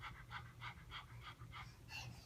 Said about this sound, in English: the dogs pant a lot